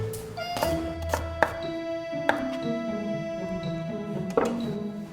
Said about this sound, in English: And then just rough chop it.